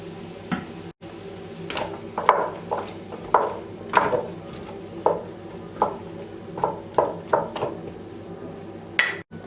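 Chopped carrots stirred and sizzling in a pot, with a series of distinct scraping stirs at an irregular rhythm over a low steady frying hiss.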